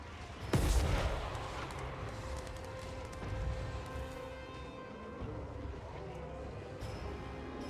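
Artillery shot in the Warhammer 3 strategy game: one loud, sharp boom early on with a rumbling tail, followed by steady battle din and low background rumble.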